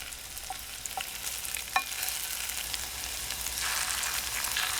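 Food stir-fried on a camping stove, a continuous hiss of sizzling with a few light utensil clicks early on, growing slightly louder toward the end.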